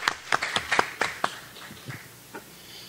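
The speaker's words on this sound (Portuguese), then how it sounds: "Uma salva de palmas para o Kip." Sparse applause at a history of science and technology conference at USP, a handful of separate claps spread unevenly across the moment, fairly quiet and tapering off, with no talking.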